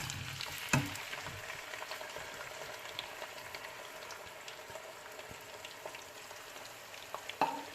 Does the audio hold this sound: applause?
no